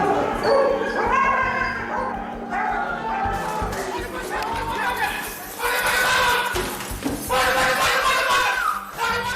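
A dog barks and yips sharply in bursts inside an American prison, amid a busy room of overlapping voices and chatter.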